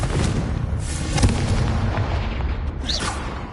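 A Confringo fire spell in the video game Hogwarts Legacy erupts in heavy, rumbling booms amid continuous combat noise, with sharp bursts and a brief whooshing flare near the end.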